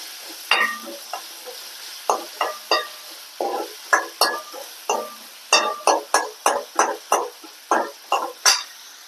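Ground spices and cumin paste sautéed in a pan for a chickpea and potato curry, with a steady series of sharp stirring scrapes and short sizzling bursts, close and fairly loud, with no talk.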